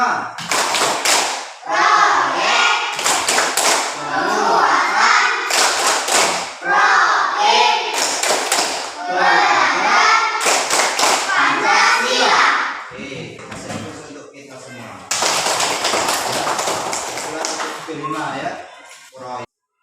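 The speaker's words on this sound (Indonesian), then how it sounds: "Kalau masih ingat, sekarang kita tepuk P5 ya" Children in a classroom perform the Tepuk P5 clapping chant, a rhythmic group routine of claps, slaps and chanted lines, loud and close, with a teacher's voice and children's voices around the bursts of clapping.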